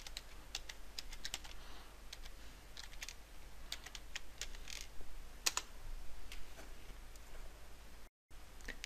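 A computer keyboard being typed on in irregular bursts of quiet, close key clicks with short pauses between, and no voices.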